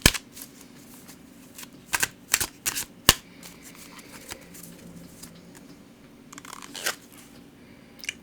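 Oracle cards being shuffled during a tarot reading: several sharp riffling bursts and soft slaps spread across the stretch, close and fairly quiet, with no talking.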